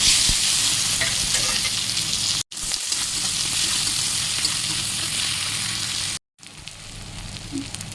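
Garam masala, cumin, bay leaf and onion fry in oil in a wok with a loud, continuous sizzle and stirring, cut by two brief silent gaps.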